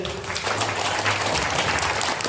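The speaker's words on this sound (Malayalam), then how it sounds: "നല്ലൊരു ക്ലാപ്പ് ചെയ്യും എല്ലാവരും കൂടിയിട്ട്." Audience applause at an indoor business opportunity presentation, a steady wash of many hands clapping together, fairly loud and sustained throughout with a faint low hum underneath.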